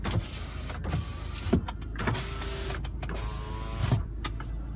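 Electric windows on a Peugeot 4007 GT 2.2 HDI turbo diesel 4WD seven-seater whirring up and down, several short motor runs each ending in a soft thunk, heard close inside the car.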